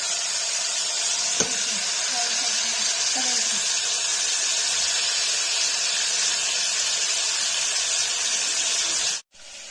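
Chicken liver fries with salt in a hot pan with a steady, bright hiss, broken by a faint clink, before cutting off abruptly at the end.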